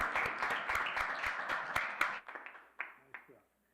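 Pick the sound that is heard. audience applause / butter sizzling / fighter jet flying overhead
audience applause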